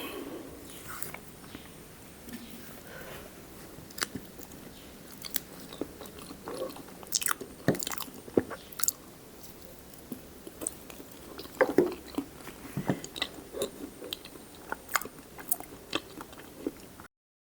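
Bilimbi fruit picked from a home garden is bitten and chewed up close, giving irregular crunchy, wet bites and mouth sounds throughout, with faint background noise and occasional louder crunches.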